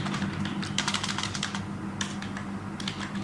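Typing on a computer keyboard while entering text into a document in InPage software: rapid, irregular key clicks in close, steady bursts over a faint low hum, with no talking.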